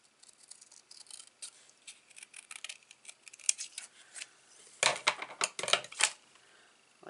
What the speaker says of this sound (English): I'm just going to cut this in the centre.